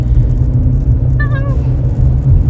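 A car engine rumbles steadily while climbing a steep hill on a street in Vinnytsia, a low continuous drone close by, with a brief tonal whistle partway through.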